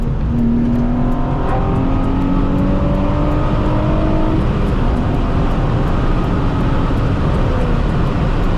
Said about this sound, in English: wide open throttle and an open road